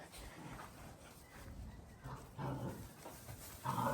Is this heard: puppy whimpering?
yes